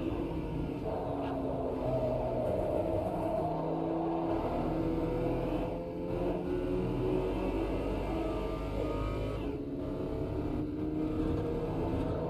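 A VW Polo GTS race car in Automobilista 2 drives a lap, its engine droning steadily with rising and falling revs through gear changes, loud and constant with no talk over it.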